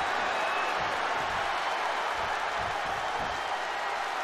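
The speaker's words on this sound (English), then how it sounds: "As you hear this crowd" A crowd cheers through a tag team match in the WWE 2K22 wrestling video game, heard as a steady, wide, hissing roar with no break and no voices over it.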